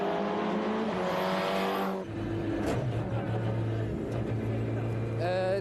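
A Toyota rally car driven by test driver Freddie Loix roars at high revs, a loud, steady engine note that drops sharply at a gear change and then pulls hard again, with a faint tyre squeal near the end.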